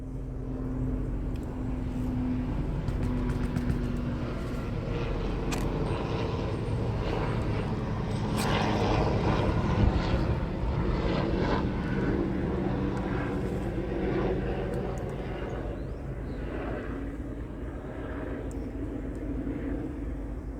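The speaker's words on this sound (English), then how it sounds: "Sorry about the jet." A jet aircraft passes overhead outdoors at a gold prospecting spot, a steady distant roar that swells slightly and fades, heard alone over about twenty seconds.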